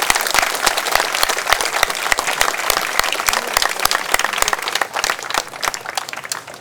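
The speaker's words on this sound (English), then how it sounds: "So a big round of applause to Teo Soh Lung, please." A large outdoor crowd at Speakers' Corner in Hong Lim Park applauds Teo Soh Lung, dense steady clapping with sharp individual claps standing out, loud and close throughout with no talk.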